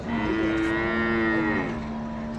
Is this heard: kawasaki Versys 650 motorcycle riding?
no